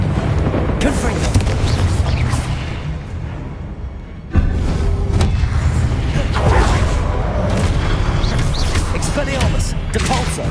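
Fire-spell explosions boom in Hogwarts Legacy during combat. Dense, loud blasts and rumbling impacts run throughout, with a sharp new burst about midway.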